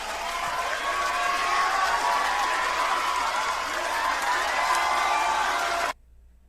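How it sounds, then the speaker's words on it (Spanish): A concert audience applauds and cheers after a performance on Singer 2018, with dense, loud clapping and whoops that hold steady for about six seconds before cutting off abruptly. "Vamos a terminar de ver al público aplaudiéndole."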